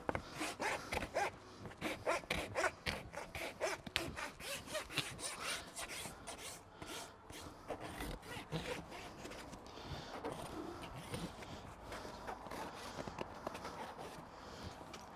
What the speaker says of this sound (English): Keep an even pressure on the rasp all the way around.